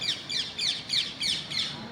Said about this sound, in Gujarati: કેટલા આવે કબૂતર બધા ચબૂતરામાં બધા આવે